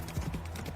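Quick clip-clop of a horse's hooves at a gallop during a knight's joust, a short close rhythmic burst of hoofbeats.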